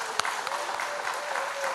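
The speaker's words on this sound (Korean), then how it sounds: "우리 감사의 박수 하나님께 올려드릴까요?" A church congregation applauds in thanks to God during a Sunday service, a brief burst of many hands clapping in a reverberant hall, steady and moderately loud.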